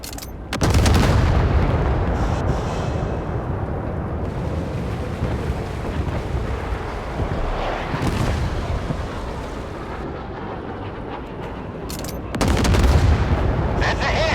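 Warship artillery in the naval combat game Force of Warships: heavy booming gunfire with a sustained rumbling roar, and fresh loud blasts near the start and again toward the end.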